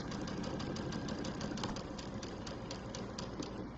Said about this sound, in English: I'm going to run my 1/4 inch seam along